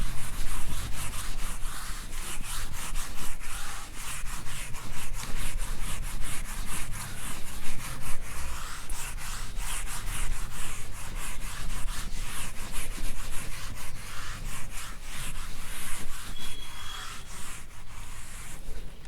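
An eraser rubs writing off a board in quick, steady back-and-forth scrubbing strokes that keep going at close range throughout.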